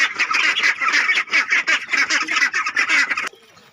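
Several hungry ducks calling loudly and insistently in rapid overlapping quacks, close by, then cutting off abruptly to quiet near the end.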